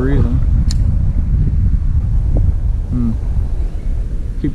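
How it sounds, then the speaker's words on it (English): Strong gusting wind buffets the microphone on a creek during bass fishing, a steady low roar filling the whole stretch with faint bits of voice and movement beneath it. "Golly, this wind is getting intense."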